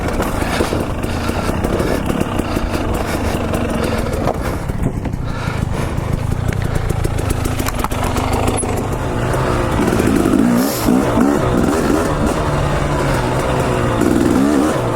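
Stock motorcycle with a McCuney carburetor and an RK Tech head, loud continuous engine running close by with rough, throbbing idle and swelling revs for the whole stretch.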